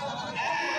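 A goat bleats once, loud and close, at a busy livestock market where goats are sold.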